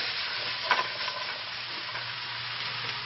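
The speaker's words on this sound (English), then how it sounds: "Put these in the frying pan." Zucchini and peppers frying in a pan, a steady soft sizzle running throughout with a few brief stirring clatters near the start, close and moderately quiet with no talking.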